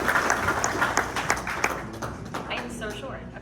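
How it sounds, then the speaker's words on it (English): A crowd at a Riverside County community event applauds an accident attorneys' firm, a moderate patter of clapping that tapers over a few seconds while a voice starts talking over it. "Let's give a round of applause."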